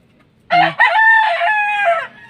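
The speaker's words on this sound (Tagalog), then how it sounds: "Magandang manok din yan mga ka-brothers." A rooster crows once, loud and close, a drawn-out cock-a-doodle-doo in quiet surroundings.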